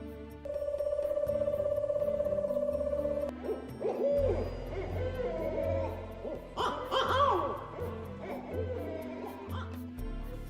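An owl caught by villagers and tied up with ropes hoots loudly with no talk: a steady, sustained call at first, then a run of shorter, more varied calls over a low tonal background.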